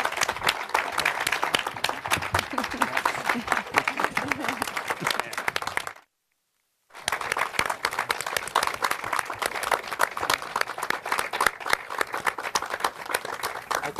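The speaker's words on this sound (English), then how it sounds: "I told you we'd need more time for the applause at the end" Audience applause at an environmental law section lifetime achievement award ceremony, steady dense clapping from a crowd that drops out briefly in the middle, then resumes just as full.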